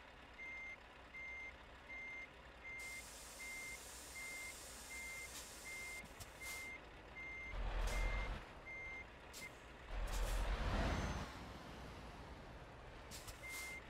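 A Scania R730 truck pulling a double trailer in Euro Truck Simulator backs up with steady, evenly spaced reversing beeps over a low engine hum, broken by two sharp air-brake hisses.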